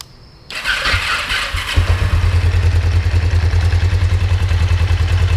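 A Kawasaki 454 LTD motorcycle engine with an idling problem fires up after a short crank, then settles into a loud, steady, pulsing idle close by that carries on to the end.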